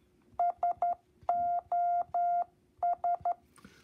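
A clear beeping tone taps out Morse code SOS: three short beeps, three long ones, then three short again, evenly spaced and close.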